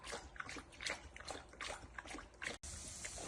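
A dog laps eagerly from its new water bowl, making a steady run of close, wet slurps and splashes that pause briefly near the end before the sloshing resumes.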